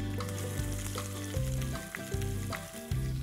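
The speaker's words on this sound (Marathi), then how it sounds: "तेल तापलेलं आहे. आपण ह्यात घालूया 1 टीस्पून राई, 10 ते 12 कढीपत्त्याची पानं, थोडीशी कोथिंबीर आणि 2 बारीक चिरलेले कांदे" Mustard seeds, curry leaves, coriander and chopped onions frying in hot oil for a Maharashtrian breakfast dish, a loud steady sizzle with stirring scrapes, no talking.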